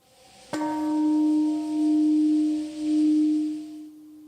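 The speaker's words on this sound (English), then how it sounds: "A bell ringing at 8:15 a.m. marked the moment when the U.S. dropped an atomic bomb on Hiroshima" A single bell rings out at the Hiroshima Peace Memorial ceremony in the city's Peace Park, one clear struck tone that hums and slowly fades with a gentle waver, heard alone in a quiet setting.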